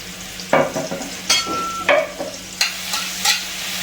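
Fenugreek leaves (methi) sautéing in oil in a pan, close crackling sizzle broken by repeated scraping stirs of a spatula, with no talking.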